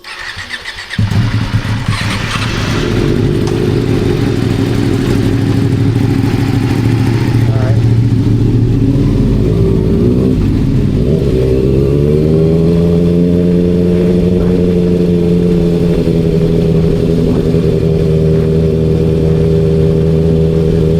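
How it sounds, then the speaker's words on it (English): A 300cc motorcycle idles and then revs steadily nearby, its engine drone loud and continuous, shifting in pitch partway through as it moves off, while voices talk over it. "Look at this fool with his 300cc bike right here."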